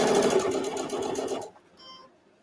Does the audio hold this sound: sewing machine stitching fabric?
yes